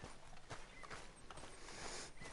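Hooves of Teddy, a horse in Red Dead Redemption 2, clip-clopping in a steady walking rhythm, soft and fairly close over a wash of outdoor ambience, with no talking.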